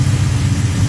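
A Pontiac 400 stroker built to 461 cubic inches with a 4 1/4 stroke, Eagle forged crank and rods, idles while warming up on pump gas. It gives a loud, steady, deep, lumpy rumble close by.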